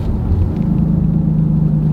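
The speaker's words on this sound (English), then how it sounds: "I can hear it making the sound like a Jake brake." Diesel pickup truck exhaust brake giving a steady, loud low rumble from inside the cab, a sustained droning growl with a faint rising tone, close and continuous with no talk.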